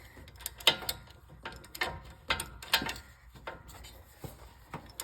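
A ratchet clicks in short bursts while bolts are tightened on the rear brakes of a 2021 Subaru Ascent, close and crisp, with pauses between strokes and a few louder clacks.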